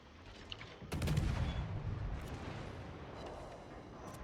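Heavy naval gunfire booms out in a warship battle game, a sudden loud impact around the one-second mark followed by a sustained rumbling barrage with scattered sharper cracks, torpedo hits landing on an enemy ship.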